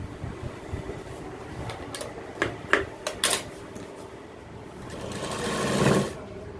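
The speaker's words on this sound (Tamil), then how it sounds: "அந்த இடத்துல ஒரு தையல் போட்டுங்க." A sewing machine stitches a belt loop onto gents' trousers, running in short uneven bursts with clicks and knocks between runs, then a steadier whirring stretch near the end.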